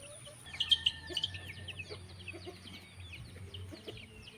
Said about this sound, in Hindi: ये देखिए सभी मुर्गियाँ चूज़े यहाँ पे आके रेडी है